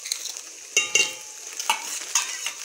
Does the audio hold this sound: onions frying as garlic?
yes